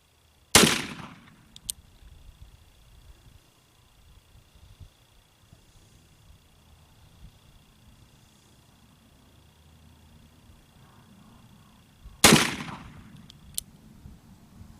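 Two sharp, loud gunshots from an 1858 Remington Navy black-powder revolver, fired about twelve seconds apart outdoors, each a crisp crack with a short echoing tail and quiet background between.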